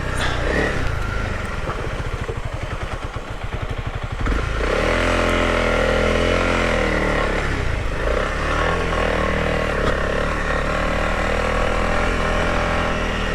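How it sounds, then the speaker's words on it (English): A Honda CRF300LS dual-sport motorcycle ridden off-road on a rough dirt road, its engine droning steadily and close up with jerky throttle surges and uneven revving, loud throughout with no talk. "I've been messing with the clutch poorly and just accelerating poorly and really exacerbating that jerky throttle"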